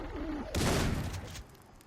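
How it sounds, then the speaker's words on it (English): A single heavy blast from the M133 shotgun in Far Cry 3, close and loud with a booming tail that fades over about a second, after faint background bird calls. "Then the M133, this is a shotgun."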